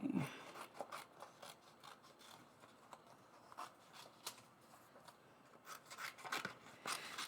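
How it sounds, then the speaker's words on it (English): Quiet, irregular snips of scissors cutting through paper, a series of short crisp cuts with brief pauses between them, no voices. "And grab my scissors"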